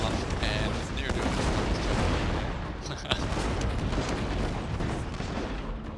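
Heavy guns firing in a Shogun 2 land battle on a flood plain, a dense, continuous roar of cannon booms and gunfire layered over constant battle noise, with a voice talking through it.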